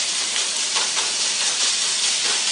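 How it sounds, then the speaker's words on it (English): Chicken browning in a hot pan sizzles with a continuous, even hiss that stays loud and close throughout, with no talking. "And if you hear it sizzling a little too hard, you're going to want to turn it down."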